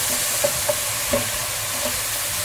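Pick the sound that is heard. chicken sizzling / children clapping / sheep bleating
chicken sizzling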